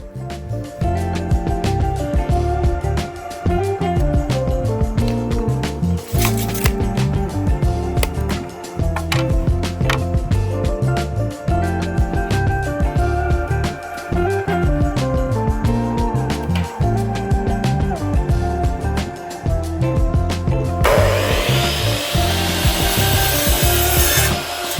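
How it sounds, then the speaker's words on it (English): A power saw rips 2-inch strips from wooden boards, making a loud, sustained, rhythmic cutting drone that pulses repeatedly throughout, with a brief shift in tone near the end. "we're gonna rip 2-inch strips with the table saw over there"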